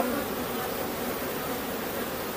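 Honeybees buzz over a hive frame of brood while an artificial swarm is being made, a dense continuous drone filling the air close by.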